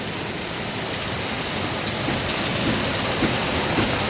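Heavy rain in Mumbai pours down in a dense, continuous hiss, drumming steadily on surfaces nearby without a break.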